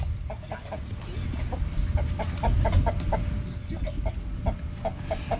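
A Shamo chicken clucks in a steady series of short, close, repeated calls, about a dozen in quick rhythm, over a low rumbling outdoor background.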